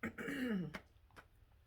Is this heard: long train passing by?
no